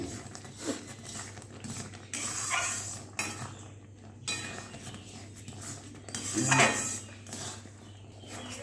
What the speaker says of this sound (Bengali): হ্যাঁ, সুজি দিয়ে নাড়তে হবে